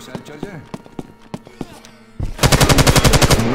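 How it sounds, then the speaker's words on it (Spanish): Rapid automatic gunfire from a weapon in Left 4 Dead 2, a loud burst of evenly spaced shots in a rainy level after a stretch of quieter game sounds. "Ay, perdón, que disparé."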